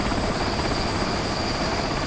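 A military helicopter readies for takeoff, its steady rotor and turbine roar filling the air with a continuous, loud, even drone and no voices.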